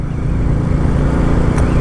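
BSA Goldstar motorcycle engine fitted with a decat exhaust pipe, giving a loud, close, steady throbbing rumble with no voices over it.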